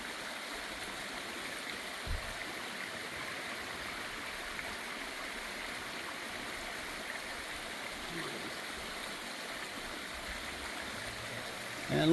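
Water pours into a creek in a park with a constant, faint rushing and trickling. The flow stays steady throughout, and a brief thump breaks in near the start.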